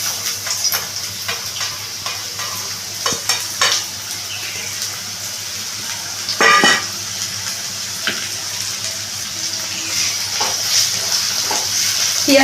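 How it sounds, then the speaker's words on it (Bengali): Finely chopped onion frying in a pan alongside a dried chilli, giving a steady close sizzle with occasional stirring scrapes and clinks throughout, no talk. "পেঁয়াজটা একটু আমি ব্রাউন করে ভেজে নেব।"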